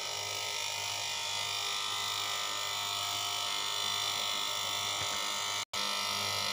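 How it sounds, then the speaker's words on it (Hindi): A vacuum pump hooked to a side-by-side fridge compressor runs with a loud, steady electric drone and buzz, close and unbroken apart from one abrupt momentary dropout near the end, with no talking. "अभी चालू कर दिया है वैक्यूम।"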